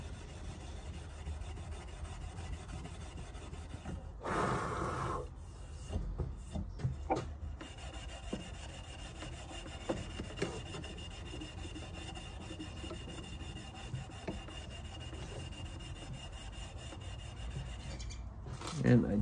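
Steel wool rubs varnish off a wooden hammer handle in close, quiet rasping strokes, with a few stronger bursts of scrubbing and brief pauses between passes.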